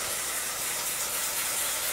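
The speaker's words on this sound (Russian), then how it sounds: "я добавляю по 1 столовой ложке воды аккуратно по краям сковороды." Steady, dense hissing and sizzling as spoonfuls of water hit a hot frying pan of onions, continuous and close with no voices.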